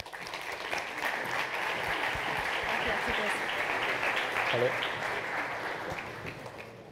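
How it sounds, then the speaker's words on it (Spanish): An audience at a university entrepreneurship talk claps steadily and evenly throughout, a full wash of hands with no pauses, while a voice briefly speaks over it. "Un aplauso."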